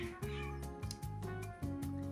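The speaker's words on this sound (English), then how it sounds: "it's mating season out there, and there's cats that are going crazy and wild. So that's what you're hearing outside." Cats caterwauling outdoors during mating season, a series of loud, drawn-out yowling meows repeating in close succession without talk.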